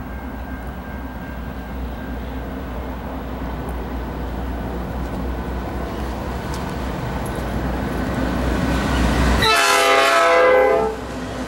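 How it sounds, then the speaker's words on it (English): A single Norfolk Southern light engine locomotive rumbles steadily past close by, its low drone building before a brief clatter of wheels near the end. "That was a light engine move"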